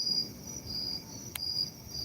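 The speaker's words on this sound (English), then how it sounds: "It sounds like crickets in the background." Crickets chirp outside in a continuous, even, high trill, soft and steady in a quiet setting, with no voices present.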